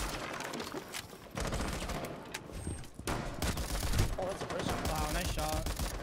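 Rapid gunfire in a Ubisoft first-person shooter, dense volleys of shots running through the whole stretch with brief lulls, loud and close, mixed with game effects and occasional voices.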